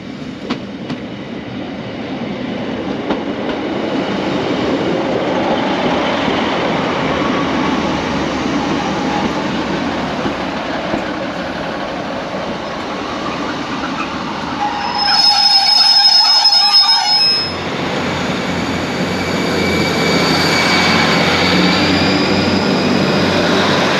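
A train rumbles past close by a platform at Corrour station for the full length, with a steady broadband roar, a brief high metallic squeal partway through, then continued rolling noise.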